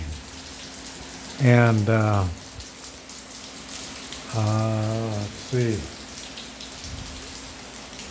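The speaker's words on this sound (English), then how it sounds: "Ooh, it's raining." Steady rain falls in the Yucatan, a dense continuous patter filling the background while someone speaks a few short phrases over it.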